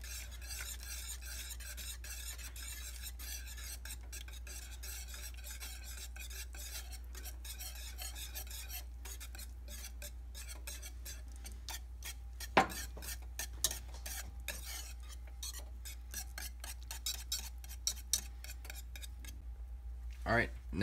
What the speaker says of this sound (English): so you may need to stir for a second and come back